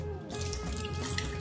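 Tap water steadily pours into a saucepan already holding butter in a home kitchen, a continuous close splashing stream throughout, with no talk.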